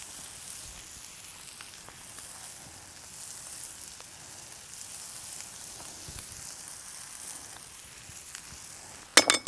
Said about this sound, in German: Und dann einfach halt hier auf die Plansche drauf kurz andrücken, dass es heiß wird.